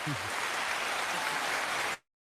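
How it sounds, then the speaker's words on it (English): Applause for a varsity boys basketball team at a live sports show, a dense steady wash of clapping lasting about two seconds before cutting off abruptly. "I'm giving them the applause."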